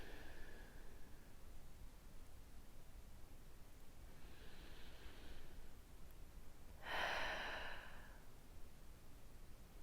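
Slow breaths taken while holding a Pilates upper-back stretch on the floor. The breathing is faint and close, with a few soft, airy inhales and exhales spaced across a quiet room, the last one the strongest.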